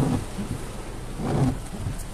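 Heavy rain on a car being driven through a downpour, a steady close rumbling wash of water drumming on the body and windshield, with no talk.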